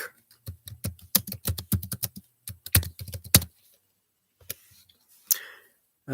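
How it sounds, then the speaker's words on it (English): Rapid bursts of clicks on a computer keyboard, dense for about three seconds, then a pause and a few scattered keystrokes, close and fairly loud. "Let me just type this in real quick."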